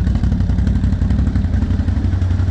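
A CF Moto motorcycle engine running steadily nearby, a loud, even low-pitched idle rumble with a regular pulsing beat, with no talk over it.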